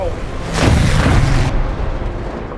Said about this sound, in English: Hey, we exploded at the same time.